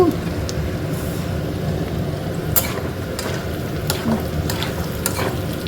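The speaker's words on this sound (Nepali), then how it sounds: "किसमिस पनि हालेर चाहिँ चलाउँछु।" Peanuts and raisins are stirred in a hot frying pan with steady sizzling and scraping. A spoon clinks against the pan now and then.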